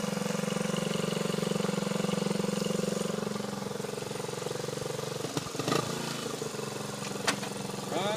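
A 1977 Honda CT90 Trail 90 motorcycle with its original carburetor runs at a steady, buzzing idle close by, with a few brief clicks and knocks near the end.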